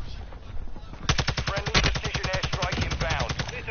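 Rapid automatic gunfire in the shooter Warzone rattles loudly and close, a fast even burst of shots lasting several seconds after a muffled moment of game noise.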